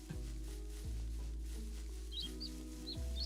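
A few brief, faint bird chirps in the survival game Origin Realms sit above a steady, louder bed of low background music, with no one talking.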